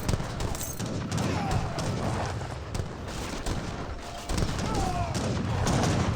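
Battle in Age of Empires 3 between Dutch and Ottoman forces, with dense, continuous gunfire and booming artillery volleys crackling and thudding at moderate loudness throughout.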